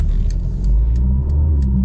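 A 2023 Audi RS3 compact performance sedan accelerates hard with a loud, close, throaty exhaust roar and deep engine rumble filling the cabin without any talking.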